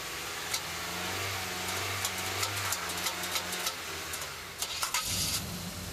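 A truck engine cranks and tries to start, a repeated churning whir with rhythmic pulses, then catches briefly near the end, heard at moderate distance with some clicks and no talk.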